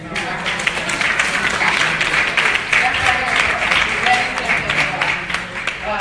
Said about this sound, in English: there's a hand clap right there